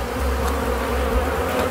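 Honey bees buzz steadily at an open beehive in an apiary during a hive split, a dense, continuous droning swarm hum close by with no talking.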